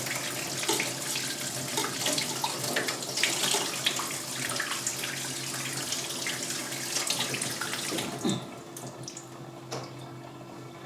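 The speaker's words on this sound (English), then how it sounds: "my grandmother just rinsed the onion underwater" Tap water runs steadily over an onion being rinsed, a close continuous splashing gush that drops to a quieter trickle toward the end, with no talking.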